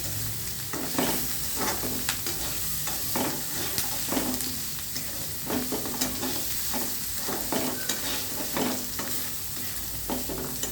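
Bitter gourd and curry leaves fry in oil in a pan, a constant close sizzle broken by repeated spatula scrapes and stirring taps in an uneven rhythm.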